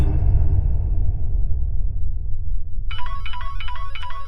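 A mobile phone ringtone starts partway through as a repeating electronic melody over a loud, rumbling low background, playing steadily until the end.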